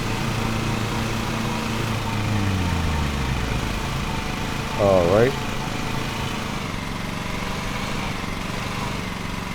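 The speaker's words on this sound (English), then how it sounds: "Let me go ahead and turn down the engine." Lawn tractor engine idling steadily in the Lawn Mowing Simulator game, a low continuous drone running throughout with a brief louder burst midway, while a voice speaks over it.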